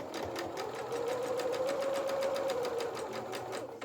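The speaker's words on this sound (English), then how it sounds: "I'm going to start stitching and then just reverse, just to anchor that down" A sewing machine stitches a quarter-inch seam on a soft toy donkey body, then reverses to anchor it, a steady fast needle chatter with a motor whine, fairly quiet and continuous, no talking.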